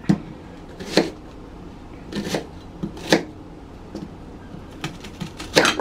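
Onion and scallion being cut by hand for a herb seasoning blend: a handful of sharp, separate chopping cracks spaced irregularly over faint background noise, with no talking.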